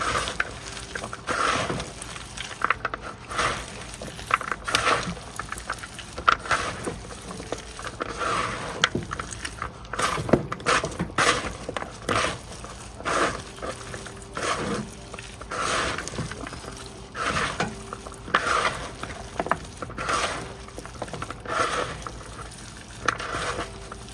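Pork ear sisig ingredients being gently stirred in a pan, a steady sizzle of frying under repeated soft scraping and mixing strokes, close and continuous with no talk.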